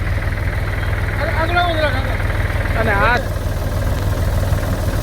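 A new tractor's engine idling with a steady low, throbbing rumble close by, while someone speaks over it for a few moments.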